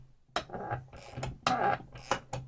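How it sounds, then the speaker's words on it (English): Ratcheting wrench clicks in quick irregular bursts as a fastener is tightened with light force during a full rebuild of a Stihl MS 660 chainsaw engine, close and fairly loud with no talking. "It's making a lot of noise, but look at how I'm literally just holding the wrench at the head."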